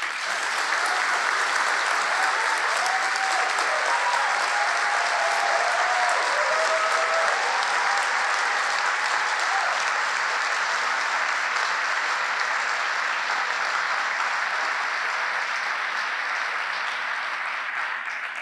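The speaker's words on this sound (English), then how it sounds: "Can we have one last round of applause for them?" A large audience at a moot court world championship round applauds steadily, a dense continuous wash of clapping that stays loud and even throughout with no clear voices over it.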